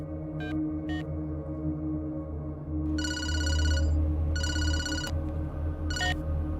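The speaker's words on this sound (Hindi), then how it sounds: "चल राजा को फोन कर" A telephone rings on an outgoing call in repeated electronic bursts, pausing between rings, over a steady low background hum.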